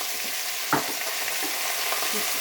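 Garlic sizzles steadily in hot oil in a pan for an artichoke and pea tajine, a close continuous frying hiss with a brief stirring clatter.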